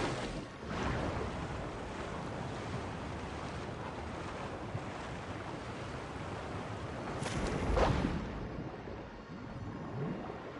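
Ocean waves wash over a huge body of water in Genshin Impact, a steady broad rush of surf with wind noise that swells near the eighth second. No one speaks.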